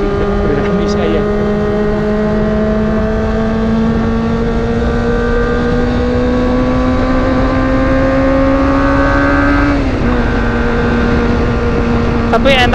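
A Kawasaki ZX25R motorcycle fitted with an aftermarket Prekjo exhaust rides along a busy road, its engine droning loud and steady with a slowly climbing pitch and a brief gear change near the end.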